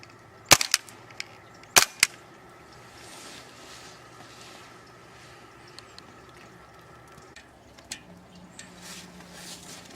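A Well G196 Mauser C96 CO2 airsoft pistol fires two sharp, loud cracks about a second apart, followed by a few faint mechanical clicks over a low, steady background.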